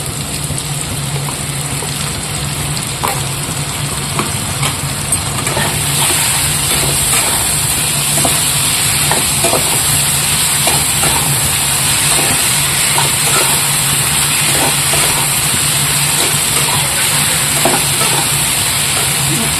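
Steady, loud sizzling of ginger garlic paste frying in a hot pan with fried potatoes, with occasional crackles and scraping stirs throughout.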